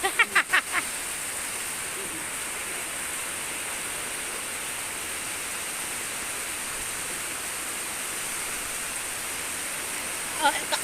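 Steady, dense rain hiss fills the scene from start to finish, with a few brief voices breaking through at the very beginning and end.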